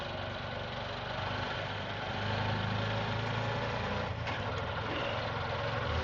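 A Delhi auto rickshaw engine idles and runs steadily up close, a continuous low, buzzing drone with slight vibration and no speech over it.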